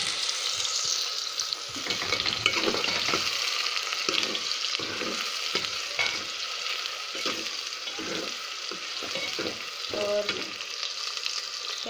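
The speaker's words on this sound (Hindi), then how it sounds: "घी हो गया मेरा गरम, अब मैं इसमें डालूँगी प्याज।" Onion dropped into hot ghee for a yogurt chicken curry, a dense steady frying hiss with intermittent stirring scrapes and small clatters, close up and without talk.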